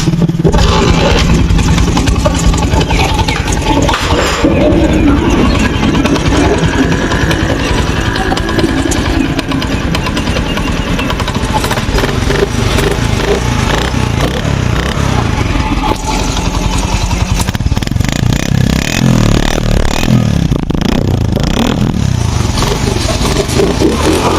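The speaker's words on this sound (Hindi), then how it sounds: "तो सबसे पहले आप इसका साउंड सुने मोटरसाइकिल का" A motorcycle engine runs loudly and steadily throughout, with a rough, throbbing tone and occasional surges in revs.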